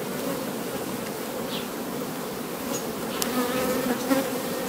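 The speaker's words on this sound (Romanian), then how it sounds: "se umple tare, tare cu albinuțe" Honeybees drone steadily inside a hive as a young queen's brood hatches, a dense continuous buzz up close with a few individual bees whining past.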